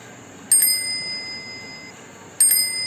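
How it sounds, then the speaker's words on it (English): A bicycle bell rings twice, each time a bright metallic double ding that fades slowly, with the second ring coming about two seconds after the first over a quiet background. "It is the sound of the bell of a bicycle."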